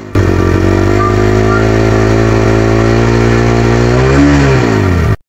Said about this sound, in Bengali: একজস্টের সাউন্ডটা শুনেন।